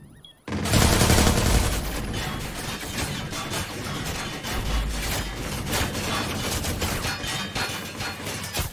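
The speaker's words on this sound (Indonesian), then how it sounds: "dari mana ya tembakan itu?" Dense, loud bursts of video-game gunfire from Watch Dogs 2, rapid overlapping shots and crashing impacts in a sustained fusillade that continues for several seconds with no talking.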